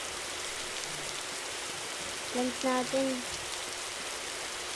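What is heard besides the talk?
rain falling in the video game 99 Nights in the Forest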